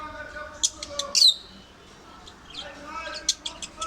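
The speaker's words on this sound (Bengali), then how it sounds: "আমার কাছে 3 পেয়ার লাভবার্ড রয়েছে।" Pet lovebirds in a home aviary give a few sharp chirps and squawks in short bursts, loud and close, separated by quieter pauses over a faint background hum.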